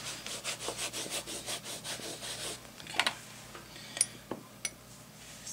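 Crayon rubbed firmly across an art journal background page, a run of quick, even scratchy strokes for about two and a half seconds, followed by a few faint taps and scrapes.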